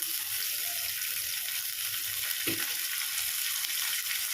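Cashews and raisins fry in ghee in a pan over a medium flame, giving a steady, fairly loud hiss and sizzle throughout with a brief clatter near the middle and no voice.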